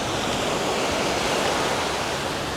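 Surf washing onto the beach at Playacar in Playa del Carmen, a steady broadband wash of breaking waves close by, continuous and fairly loud with no voices over it.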